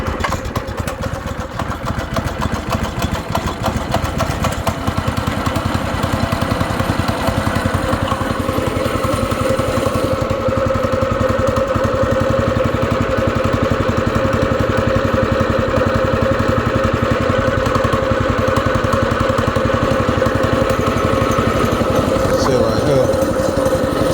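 Small go-kart engine, choked and switched on, catches and runs at a steady rough idle with a busy low rumble throughout, loud and close, with occasional voices over it.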